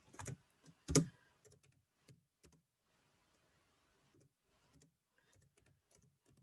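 Computer keyboard typing: scattered, sparse key clicks, a couple of louder presses early on, then quieter intermittent taps with pauses in a quiet room.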